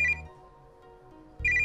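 An electronic phone ringtone from the Hetalia Islands video game sounds in two short melodic bursts at the start and end, with a quiet gap between them.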